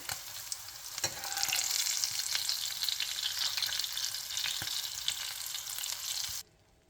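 Salmon pieces frying in oil with curry leaves: a steady, close sizzle that holds throughout with occasional pops and scraping, then drops away abruptly near the end.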